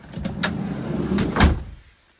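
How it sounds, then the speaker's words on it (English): Sliding door of a Sprinter van rolling shut, a rumbling glide with a couple of sharp clacks, ending in a firm thud close by before quiet. "Just gonna shut the door,"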